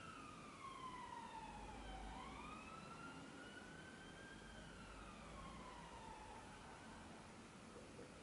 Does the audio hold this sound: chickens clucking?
no